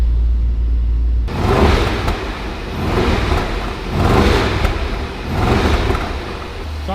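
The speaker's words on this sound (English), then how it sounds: "How did it go from sounding terrible? Like it feels a bit rocky, but it's a V8, isn't it?" A large V8 car engine idles roughly and revs in slow repeated swells, loud and close, running continuously throughout.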